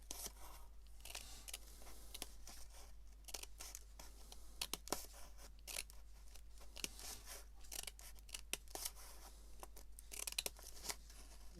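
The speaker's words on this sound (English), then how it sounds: "It's much better if you can do it in one action of scissors" Scissors snip repeatedly through paper while making simple spring flowers, a run of close, crisp, irregular cuts and small scratches at low volume over a faint steady hum.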